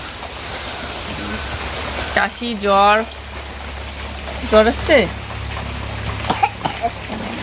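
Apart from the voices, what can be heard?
heavy rain falling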